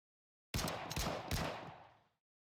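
A burst of several gunshots from the video game Nikke, loud and close, three sharp reports whose echoes blur together into a long reverberant tail, with no talking.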